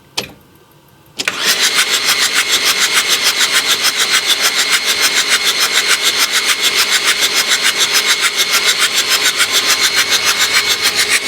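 A diesel engine cranks briefly after a quiet moment, then catches and runs loudly with a fast, even pulsing beat that continues to the end.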